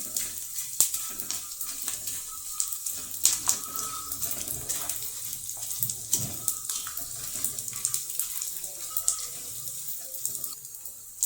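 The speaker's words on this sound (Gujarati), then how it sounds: "આપણે ગુંદરને ઘીમાં તળીશું।" Edible gum frying in hot ghee makes a continuous light sizzle and crackle with scattered small pops. It is close and moderately quiet, with no voices.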